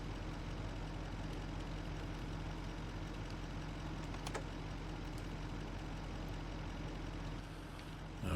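A small truck idles in the Farming Simulator 25 video game, a steady low engine rumble with a heavy, even drone that carries on unbroken with no talking.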